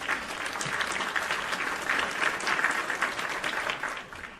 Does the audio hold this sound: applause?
yes